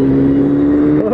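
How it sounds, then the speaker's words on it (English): A loud bus engine drones nearby in a steady, heavy rumble that holds for about a second before a slight shift at the end, with no voices. "Bus sounds like it's gonna blow up."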